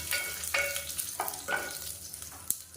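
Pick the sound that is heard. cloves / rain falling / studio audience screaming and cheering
cloves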